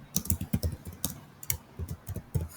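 An SQL query is typed on a computer keyboard: rapid, uneven bursts of close, crisp keystrokes with short pauses between words, and no talking.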